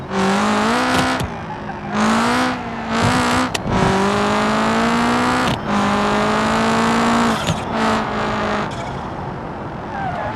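A race-style car with no ABS driven hard in BeamNG.drive, its engine loud and close, repeatedly revving up and dropping between gear shifts, with occasional tire noise over about ten seconds of continuous driving.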